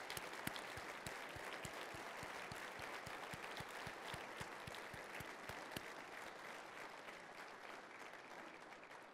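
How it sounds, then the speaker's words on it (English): Sustained applause from an audience at a welcome day for accepted students, dense steady clapping with sharp individual claps standing out, continuing evenly throughout at moderate distance. "Let's give them a round of applause."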